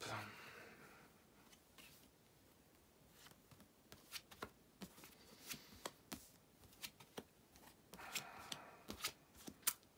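Cards being shuffled and drawn for a fortune-telling tarot reading, a quiet run of soft flicks and snaps at irregular intervals, close and otherwise nearly silent.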